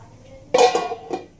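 A metal lid set down over a cooking pot on the stove, a sharp close clank followed by a shorter rattling knock.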